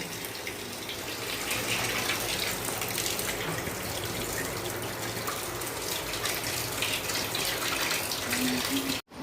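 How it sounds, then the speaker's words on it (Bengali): Meat and fish rinsed under a running tap, a steady close rush of gushing water lasting the whole stretch before cutting off abruptly at the end. "মাংসটা আর মাছটা হচ্ছে এই যে ধুয়ে নিলাম, ধুয়ে নিয়েছি।"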